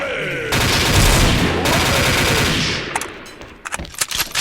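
Rapid automatic gunfire in a video game, a loud dense burst of shots lasting a few seconds before breaking into scattered single shots and clatter.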